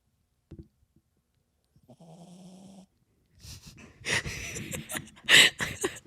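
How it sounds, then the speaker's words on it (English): A small chihuahua snores nearby with a brief snort, then a drawn-out wheezy snore, and finally a series of louder, rough snuffling breaths. "I hope you guys enjoyed the cutest little chihuahua snores."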